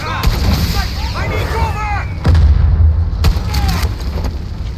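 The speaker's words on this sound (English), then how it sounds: "Somebody is firing heavy." Heavy gunfire erupts in Far Cry 6, loud booming shots at intervals over a rumbling battle backdrop, with shouting voices mixed in.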